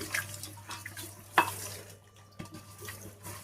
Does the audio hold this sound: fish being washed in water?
yes